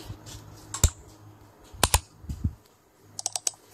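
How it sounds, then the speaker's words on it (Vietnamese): A CapCut stock sound effect of computer keyboard typing and mouse clicking: sharp, irregular clacks and clicks in small bursts, close and dry, with a quick cluster of taps near the end. "cái tiếng gõ bàn phím ấn chuột đi, tiếng gõ chuột đi, tiếng bấm chuột tích tích cái tiếng kêu chuột đi"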